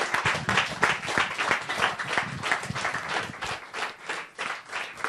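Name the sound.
audience applause in a church class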